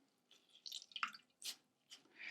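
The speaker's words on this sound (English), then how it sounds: "Then gently press it between your palms to push out any excess water." A wet bath sponge is pressed between the palms, pushing out water in a few short, soft squelches and drips, close and quiet, with no talking.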